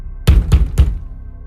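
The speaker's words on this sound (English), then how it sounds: "Then came 3 loud bangs on the roof," Three loud, evenly spaced bangs on a cabin roof, each a heavy dull thud with a short tail, close and sharp in an otherwise quiet setting.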